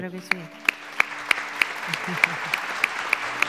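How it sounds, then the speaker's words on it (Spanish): Audience applause at a luxury awards gala, a steady wash of clapping that fills the room, with a voice speaking briefly over it. "por favor, si podéis darles un aplauso desde aquí"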